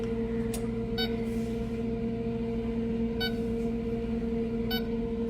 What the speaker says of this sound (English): Closing setting the timer.